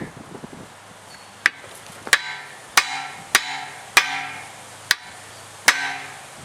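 A hammer taps a tire onto a rim for a military truck, seven sharp metallic strikes spaced about a second apart, close and ringing, with faint rustling in between.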